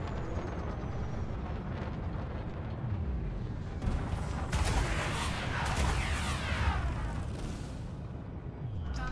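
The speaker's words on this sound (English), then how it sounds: "I popped his shield with a total of four torpedoes." Torpedoes strike a ship in the space combat game Elite Dangerous, sending deep rumbling booms through a steady engine drone, with a louder burst of crackling impact noise partway through.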